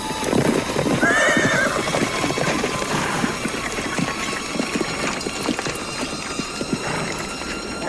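A horse approaching with rhythmic clip-clopping hooves and a clear whinny early on, the hoofbeats and creaking tack continuing close by.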